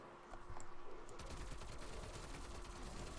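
Rapid automatic bursts from a Milano 821 submachine gun in a Call of Duty-style multiplayer shooter, fast rattling fire that is fairly faint and continuous after a short quiet start.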